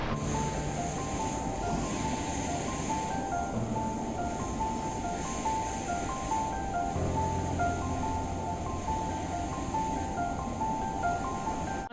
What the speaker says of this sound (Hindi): साथ में देखिए चल रही है पुष्पावती नदी